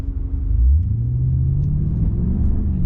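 A Maserati Ghibli Trofeo engine rumbles steadily as the car takes a corner at speed, a deep, continuous low drone with a brief swell in pitch early on, loud and close throughout with no talking.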